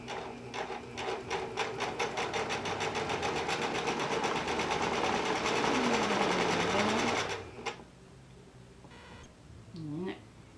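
A sewing machine stitches a knit sleeve with regular polyester thread in a fast, steady run for about seven seconds, then stops, leaving quiet handling noises with a brief beep-like tone near the end.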